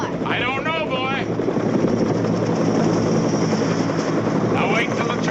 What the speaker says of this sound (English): I'll wait till the choppers are done.